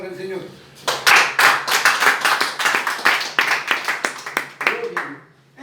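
Church congregation clapping hands during worship: a loud, close burst of rhythmic group claps that starts after a brief spoken phrase, keeps a steady beat for several seconds, then thins out and stops.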